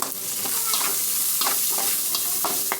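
Chopped onion sizzling in a pan with green chilies and curry leaves, loud continuous frying hiss broken by several quick scraping stirs of a spatula.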